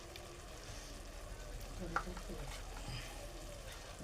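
Pav bhaji masala, with red chili colour masala and homemade spice mix, fries in a pan with a faint, steady sizzle as it is stirred, a single soft scrape standing out midway.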